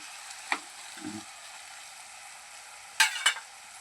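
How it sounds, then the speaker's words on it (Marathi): Tomatoes with a pinch of salt cook in a frying pan under a steady, low sizzle, with a few sharp spatula clinks and scrapes as they are stirred. "थोडंसं मीठ टाकायचं म्हणजे टमाटे लवकर मऊ होतात। मिक्स करून घेऊ।"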